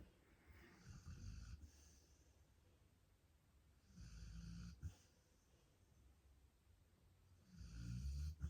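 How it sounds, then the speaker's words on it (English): A person snores in three slow, deep rasping breaths spaced a few seconds apart, fairly quiet and close, with near silence between them. "it's very distracting with the snoring"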